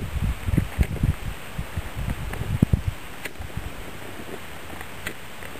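Wind blows outdoors, gusting and buffeting against the microphone as a rough, uneven rumble with irregular thumps that ease off toward the end.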